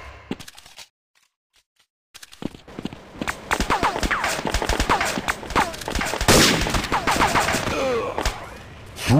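Rapid bursts of gunfire from the mobile shooter game Critical Strike, loud and close, firing in repeated volleys after a brief silent pause, with clattering impacts and footsteps between shots.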